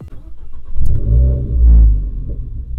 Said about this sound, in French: Dans la jaune, quand vous démarrez la voiture,